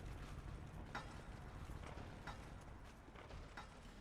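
Horse hooves clip-clopping in a video game, faint evenly spaced clopping steps under a low steady background hum.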